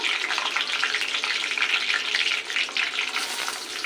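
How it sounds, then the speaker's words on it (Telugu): Onions fry in a pan with a steady, close crackling sizzle that runs unbroken, with occasional stirring, and no one talks. "కొద్దిగా వేగినాక చూడండి, ఇప్పుడు మనము ఉల్లిగడ్డలు వేసుకుందాము."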